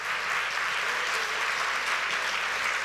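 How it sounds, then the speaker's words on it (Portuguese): A church congregation applauds together, a steady dense wash of clapping hands sustained at even loudness for the full length, with no speech over it. "Vamos dar um aplauso ao Senhor por isso."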